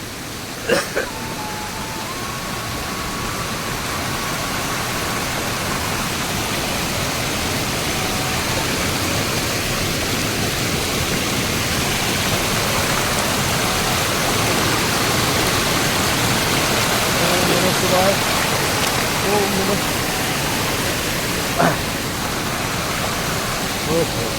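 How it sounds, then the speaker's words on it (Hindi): Mountain waterfall on the Kedarnath trek, heard as a steady, broad rushing wash of falling water that fills the whole scene continuously, with a few faint knocks and bits of distant activity over it. "तो ये झरना बह रहा है"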